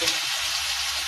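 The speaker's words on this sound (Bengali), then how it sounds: "তো ভাজাটা কম আঁচেই ভাজতে হবে," Chowmein pakoras frying in oil over low heat give off a steady, dense sizzle that fills the short stretch without pause, close and even in loudness.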